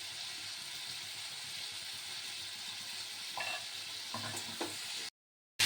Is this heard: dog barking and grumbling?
no